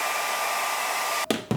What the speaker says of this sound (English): I'm gonna run, I think, the blow dryer over it just a little bit.